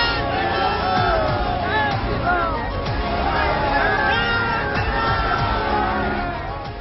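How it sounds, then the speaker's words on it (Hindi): A large crowd of devotees at Patna airport chanting Jai Shri Ram slogans: a dense, loud wall of many overlapping voices that stays continuous and fades slightly at the end. "पूरा एयरपोर्ट जय श्री राम के नारों से गूंज उठा"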